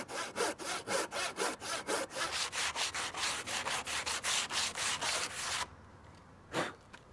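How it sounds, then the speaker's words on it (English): A tenon saw cuts through timber for a garden bench and table with about twenty quick, even back-and-forth strokes, loud and close. The sawing stops and then comes one last stroke. "I'm going to use the tenon saw because it's rigid and will give me a great straight cut."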